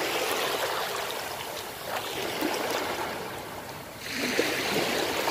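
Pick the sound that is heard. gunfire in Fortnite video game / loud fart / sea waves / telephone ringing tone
sea waves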